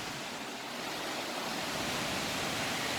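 Distant waterfalls in Yosemite Valley make a steady, broad rushing hiss that swells slightly and continues without a break, with no voices over it.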